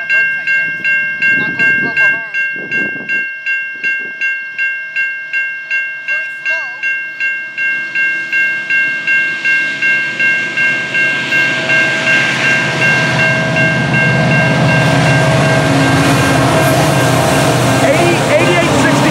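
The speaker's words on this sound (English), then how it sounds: "And it's an intermodal train." A CN intermodal freight train rolls past slowly at night, its wheels beating a steady rhythmic clickety-clack close by while crossing-signal bells ring continuously; someone speaks briefly near the start before the rumble swells.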